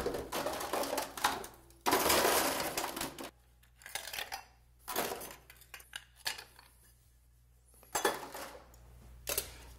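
Ice goes into a cocktail shaker while a Cosmopolitan is being mixed, giving several loud bursts of clattering cubes separated by quieter gaps.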